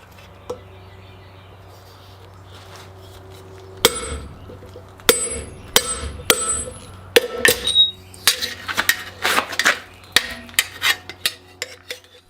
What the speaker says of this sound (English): Each iron strip is measured to fit the precise dimensions of the barrel body, then cut and shaped over an anvil.